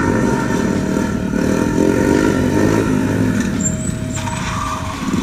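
A motorcycle accelerates hard into a wheelie, its engine note loud and close and holding steady, with a rising harmonic sweep near the end as the revs change.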